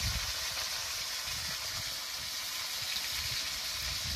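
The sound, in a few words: potatoes frying with salt, being stirred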